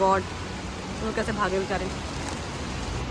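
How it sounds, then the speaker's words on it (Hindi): Heavy rain pouring steadily as a dense, even wash of noise outdoors near a roadside tea stall, with a person talking over it briefly. "ये अभी तो हल्की सी बारिश, अभी हम आ गए और अभी इतनी भयंकर हो गई है"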